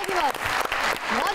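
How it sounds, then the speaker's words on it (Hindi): Applause and clapping from a comedy talk-show studio, with two guests on set, rise under lively overlapping speech for a short burst. "मैं तो तालियां बजाऊंगी इस बात की"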